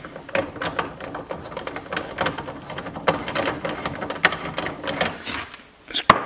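A ratchet turns a bolt loose on the brake of a BMW E36: quick, close mechanical clicking in fast irregular runs, with a sharper metallic tick near the end.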